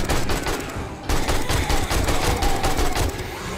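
AK rifle fire in the video game 7 Days to Die during a horde night, a dense, loud stream of rapid shots with barely a break, sustained throughout.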